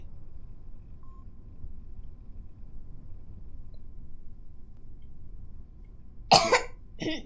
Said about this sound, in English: coughed over there, not at you